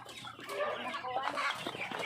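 Heritage chickens in a Cebu yard cluck in a busy, overlapping chorus of short, close calls, steady throughout with no talking.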